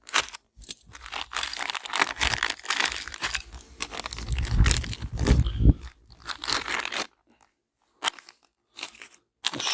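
Close crunching, crinkling and tearing as a rubber suspension boot on a Volvo S60 front suspension part is cut open, dense for about seven seconds and then a few short scrapes after a near-silent pause, with no voices.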